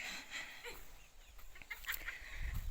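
Chickens in a village farm coop, a few birds clucking faintly and intermittently against steady outdoor background noise, with no one speaking.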